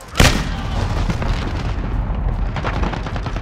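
A stun grenade goes off in Call of Duty Modern Warfare with a single sharp, loud bang near the start, followed by a rumbling, noisy combat din with faint distant shots.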